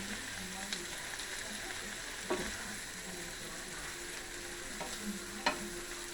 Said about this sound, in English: I'm going to wilt this beetroot right here.